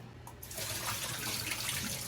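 Water from strained, freshly blanched green vegetables pours and splashes steadily through a strainer into a sink, a close, continuous rushing gush with no speech.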